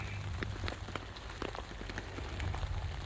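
Steady rain patters on the roof of a hot tent pitched for overnight camping, a dense continuous hiss with scattered louder drops and a low rumbling undertone, with no talking.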